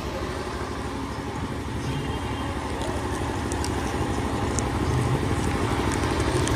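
A vehicle is taken out with its engine running, a steady close rumble that rises slightly toward the end.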